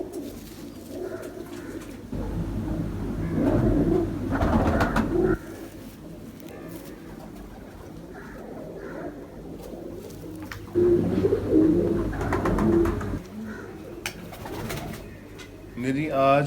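Ferozpuri pigeons from a breeder's loft coo in repeated low rolling bursts, with louder spells near the start and again around eleven seconds, and someone talks over them now and then.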